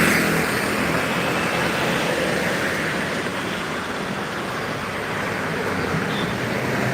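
Steady road traffic rumbles past at the Tugu Payung four-way red-light intersection during the holiday homecoming rush, a dense continuous wash of engines and tire noise, loud and close with no pauses.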